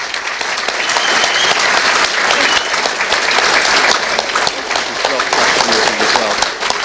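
Live audience at a Vale Park fan event applauds a person called up to stand, a loud, dense, sustained wash of clapping filling the whole stretch with a steady level.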